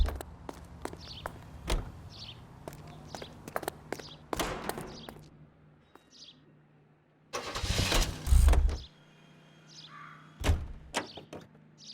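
A car engine starting in the 1940s Los Angeles detective game L.A. Noire, preceded by footsteps and door clicks, then a cranking burst that catches and settles to a low idle, with later thumps and a final door slam.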